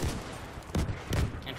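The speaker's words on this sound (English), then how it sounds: "Barrage on us." Gunfire barrage in a Battlefield match, with dense overlapping shots and two heavier bursts over continuous battle noise.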